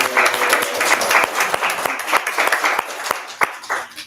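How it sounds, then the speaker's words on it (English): Applause at a school board meeting: a room of people clapping steadily for about four seconds, with sharp individual claps standing out, then thinning toward the end, with a little speech mixed in. "let's give them a big clap."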